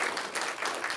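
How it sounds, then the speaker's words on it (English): Attendees at a county board of supervisors meeting clap for about a second, a lively patter of many hands with slight swells, no speech on top. "lot of claps"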